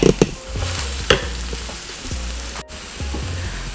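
Onions frying in a pan for a deer meat roast, a steady close sizzle broken by a few sharp scraping stirs of the utensil against the pan, with no talking.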